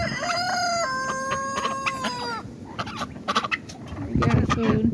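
Rooster crows loudly and repeatedly over nearby chicken clucking on a cold, windy winter homestead during the start of a storm, with steady wind noise underneath.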